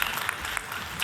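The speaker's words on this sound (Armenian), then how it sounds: "ես ուզում եմ ծափարենք մեր զույգին" Studio audience clapping at an Armenian variety show, a brief steady burst of applause from a crowd, fairly loud and continuous.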